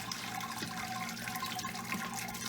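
Sparge water poured and spread over the top of a grain bed during homebrewing, a steady, soft splashing and trickling flow that runs continuously without any talk.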